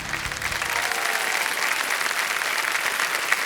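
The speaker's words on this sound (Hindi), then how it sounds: "तालियां बज जाएं इनके लिए।" Studio audience applause for a contestant on the Indian quiz show Kaun Banega Crorepati, a dense, steady wall of clapping that fills the room and holds evenly from start to finish, with a host's voice briefly audible at the very start.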